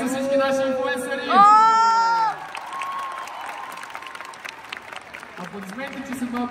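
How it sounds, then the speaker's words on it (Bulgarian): An audience at an influencer house finale claps and cheers, with shouts and whoops rising in a loud burst, then applause continues more sparsely beneath overlapping voices and announcer-style talk toward the end. "Да, хайде аплодисменти за всички наши инфлуенсъри!"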